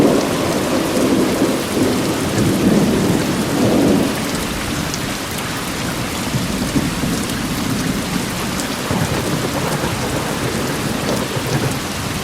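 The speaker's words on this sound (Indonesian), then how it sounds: "Dan hujan pun kembali turun dengan derasnya." Heavy rain pours down steadily in a dense, loud wash, with deep rumbles of thunder rolling underneath early on and no voices.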